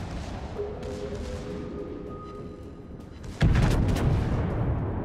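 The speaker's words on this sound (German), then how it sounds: "Jetzt schießt er weiter mit AP." Warship main guns firing armor-piercing shells in World of Warships, a sudden loud booming blast about three and a half seconds in, following a quieter stretch of steady in-game rumble and engine hum.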